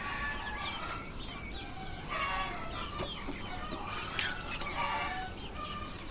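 Deshi chickens and young roosters on a farm cluck and squawk in a busy flock, with overlapping calls, occasional wing flaps and a steady background rustle, moderately close.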